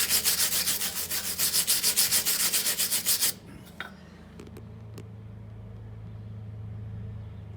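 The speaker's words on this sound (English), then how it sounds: "I just gotta wire brush that. Let me do that real quick so you can see." A wire brush scrubs a weld on a custom steel rock slider for a Chevy Suburban, giving loud, rhythmic back-and-forth scraping strokes for about three seconds. A few clanks follow, then a low steady hum.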